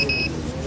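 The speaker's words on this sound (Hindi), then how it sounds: "30 सेंटीमीटर के फासले में कोई चीज़ आ जाती है तो ये अलार्म हो जाता है।" An ultrasonic obstacle sensor on a blind person's walking stick gives a short, shrill two-tone alarm beep, brief and close, over a rumbling room background.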